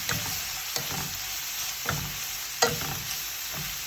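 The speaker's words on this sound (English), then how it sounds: "Stir that up." Carrots for a pork and ginger pot sticker filling fry in a pan with a steady close sizzle, while a spatula scrapes and taps through them every second or so.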